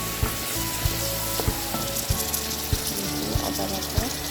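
Garlic paste hitting browned frying onions in a pan for a chicken dish, a dense steady sizzle with regular stirring knocks and scrapes, close and fairly quiet.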